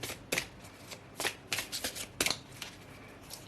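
Lenormand cards are shuffled in quick, soft, close bursts of papery riffling and slapping, repeated irregularly and faint overall.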